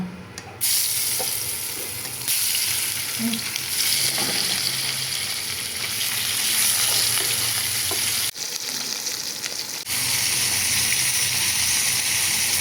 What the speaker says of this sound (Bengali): মাছটুকু আমি একবারেও ভাজা নিব